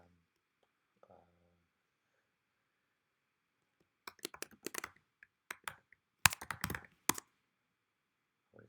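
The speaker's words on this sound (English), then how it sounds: "I'm sorry for typing so loud." Bursts of computer keyboard typing, loud and close, with quick irregular clicks and a brief murmur of a voice early on.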